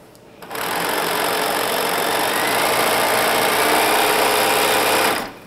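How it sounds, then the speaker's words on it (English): A sewing machine runs in one steady continuous burst for about five seconds, back stitching the hem of stretchy fabric pants, close and loud with an abrupt start and stop. "Back stitch, cut. Hem done."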